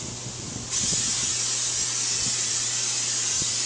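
A steady, continuous hiss of Pam cooking oil spray onto a pan, loud and close, running unbroken for several seconds over a faint low hum.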